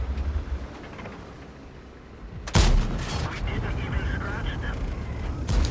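A single loud tank cannon shot in World of Tanks, fired from an IS-3A heavy tank, cracks out sharply after a quiet low rumble of engine and ambience, followed by lingering battle noise and a few faint distant reports.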